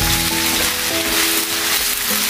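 Vegetable fried rice with petai and shrimp sizzles steadily in a hot pan while being stirred slowly, a dense close frying hiss with faint scraping and no talking.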